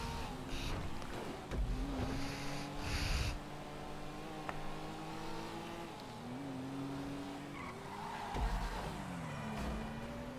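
A car in a GTA V Online race revs through corners with rising and falling engine pitch, tire squeal and a few thumps, moderately loud with a steady engine drone throughout.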